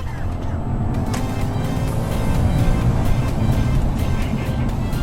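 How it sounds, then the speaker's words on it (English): Audi S5 V8 engine accelerating hard after a downshift to overtake on a road, a loud, steady low roar that builds slightly over several seconds with wind and road noise inside the car. "Drop it back a gear and plant it, and overtaking is a breeze."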